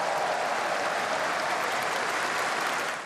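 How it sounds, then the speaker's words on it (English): Crowds in London roar and applaud at the proclamation of King Charles III, a dense, continuous wash of clapping and cheering that holds steady before easing slightly at the end. "and the roar of crowds across London,"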